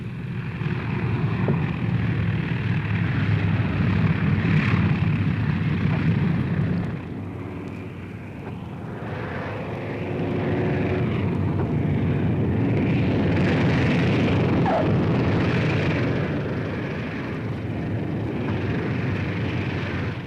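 B-17 Flying Fortress bombers land one after another on steel matting at an airfield, a continuous heavy propeller-engine drone and rumble that dips briefly and then swells again, loud and sustained.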